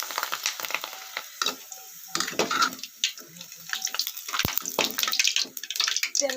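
Water runs from a tap in a home with a steady, hissing splash broken by irregular spatters and clinks. It is fairly faint and close, with no talk.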